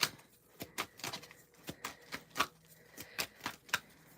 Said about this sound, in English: Pre-shuffle energies.